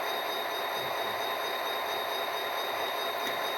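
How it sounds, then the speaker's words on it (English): An HO scale model train rolls along its track as a steady, continuous hiss-like rumble with faint wheel noise, moderately close and unbroken, with no voices over it. "That Z train's on the move."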